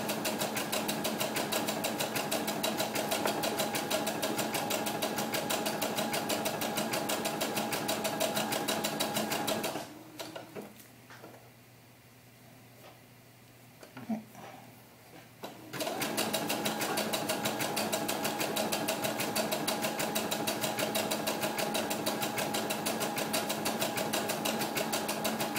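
Sewing machine running a back-and-forth applique stitch on doll clothes, a fast steady mechanical whir for about ten seconds, a brief pause with small handling clicks, then the stitching resumes steadily to the end.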